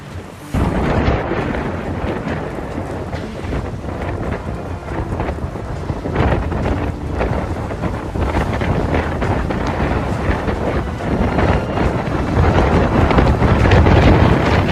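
Cyclone Biparjoy's storm brings fierce wind and rain, heard as continuous heavy buffeting gusts roaring loudly against the microphone throughout.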